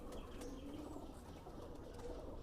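Teddy pigeons kept for sale coo softly and shuffle, faint low murmuring calls close by with light fluttering over a quiet background.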